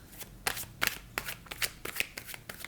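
Tarot cards shuffled by hand in a close series of crisp riffling bursts, roughly eight quick flutters spaced unevenly over a few seconds, with no voice over them.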